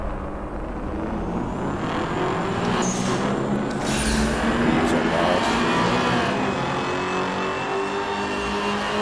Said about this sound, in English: And then we bring our RPMs up and we drop the clutch as soon as we see the light.